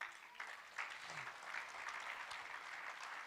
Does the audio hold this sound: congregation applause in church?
yes